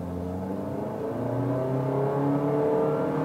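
A 2023 compact SUV, either a Honda HR-V EXL or a Chevrolet Tracker Premier 1.2, pulls away from a standstill in Econ mode with the air conditioning on, its engine note rising steadily and growing louder, close and alone.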